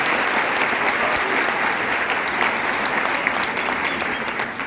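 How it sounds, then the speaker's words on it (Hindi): A large audience at a Vestige marketing plan presentation claps steadily and enthusiastically, a dense continuous wave of applause with no voices. "बहुत जोरदार तालियां"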